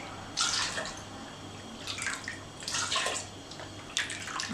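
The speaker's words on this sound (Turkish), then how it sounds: "Ve buradan aldığımız limonatalarımızı kavanozumuza boşaltalım." Homemade lemonade is poured from a container into a jar through a strainer, a steady splashing trickle in several separate surges, fairly close and without talk.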